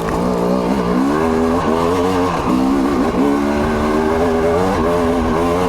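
A fuel-injected, oil-injected TM EN 300 two-stroke dirt bike revs hard in wet conditions, its engine note rising and dipping through several quick throttle blips, loud and close.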